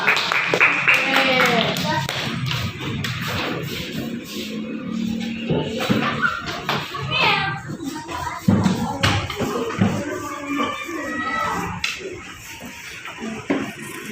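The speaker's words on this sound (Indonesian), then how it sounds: "beri tepuk tangan untuk teman-teman kita" Clapping rises in a classroom for a group coming up to present, mixed with lively chatter and voices throughout, with moderately loud, uneven claps and shuffling.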